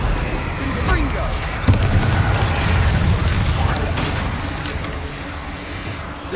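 A Confringo blasting spell in Hogwarts Legacy bursts with a sudden booming explosion partway through, layered over a dense, continuous wash of game sound effects and ambience.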